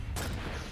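A rocket launcher fires in a Quake match, a single loud, close blast that starts sharply and fills the short clip with a dense rumble.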